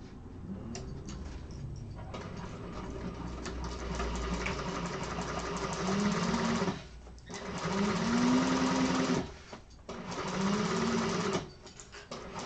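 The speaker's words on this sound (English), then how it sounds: "you're going to go ahead and sew across here with a 3/8 of an inch seam allowance" A sewing machine stitches a 3/8-inch seam allowance on a garment exterior in a sewing class, running in steady loud bursts with brief pauses between them.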